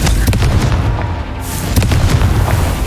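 Confringo fire-blast spell from Hogwarts Legacy erupting in a loud, booming explosion, with rumbling low-end blasts and sharp crackling bursts that recur across the moment, no speech.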